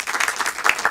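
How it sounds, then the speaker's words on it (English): A studio audience at a live talk show claps in a brief, full burst of applause for guest Ashley Kirsner, founder of Skip the Small Talk. "Give it a round of applause for Ashley."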